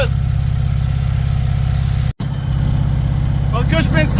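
A Cushman Truckster utility vehicle with a newly swapped carburetor runs at a steady idle, close and even, with a brief dropout partway through and a voice speaking near the end.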